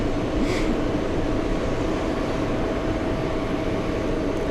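An airplane at JFK airport rumbles with a steady, broad engine roar, constant and fairly loud from a distance, with no talking.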